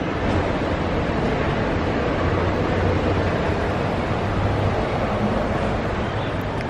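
A Disney monorail train runs through the Contemporary Resort with a steady, loud broadband rumble and rush that holds for the whole stretch, without pauses or talk.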